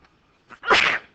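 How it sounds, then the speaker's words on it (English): A single sharp sneeze bursts out close to the microphone, preceded by a brief quick inhale, with no other sound around it. "I'm going to sneeze."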